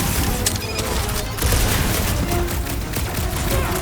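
Heavy gunfire from big guns in the Guardians of the Galaxy video game, dense continuous bursts and booms filling the whole stretch with game effects mixed in, loud and without speech.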